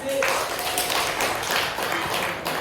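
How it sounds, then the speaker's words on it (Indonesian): A classroom audience claps at an Islamic religious education teaching presentation, making a dense, loud burst of many hands clapping together that holds steady for a few seconds. "Ya, beri tepuk tangan."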